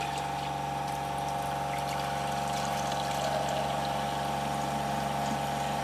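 Electric watermaker desalinator aboard a boat running steadily, a constant motor hum with tonal whine and water flowing through it, unchanging and fairly loud throughout with no talk.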